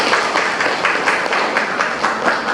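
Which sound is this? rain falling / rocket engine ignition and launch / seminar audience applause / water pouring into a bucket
seminar audience applause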